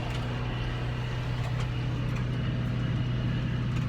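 A 6420 four-wheel-drive tractor fitted with aggressive front tires drives across a field during pea and oat planting, its engine a steady, close, continuous low drone with no talk.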